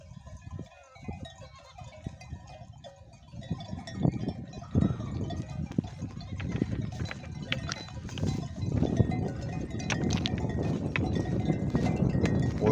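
Sheep bleat intermittently amid steady outdoor rustling and shuffling, with livestock noises building louder toward the end.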